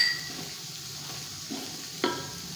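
Ground spices, including roasted coriander, cooking in a pan for a green chili curry: a soft, low sizzle with a couple of faint utensil taps and scrapes, fairly quiet throughout.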